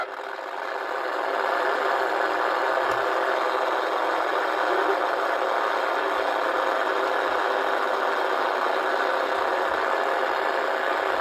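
Toy engine drone from a 1980 Kenner Redline drag racing game, a steady buzzing hum that holds level and fairly loud throughout after a short rise at the start, with no talking over it.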